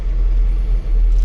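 A 40-year-old square-body truck drives after a brake repair, its engine a loud, steady low rumble close by, with a brief dip midway and no talking.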